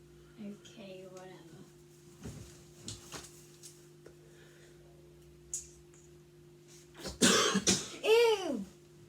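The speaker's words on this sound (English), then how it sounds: "Sorry, I just got a cough." Two loud, close coughs burst out near the end of an indoor room scene, after a stretch of quieter voice sounds and shuffling over a steady background hum.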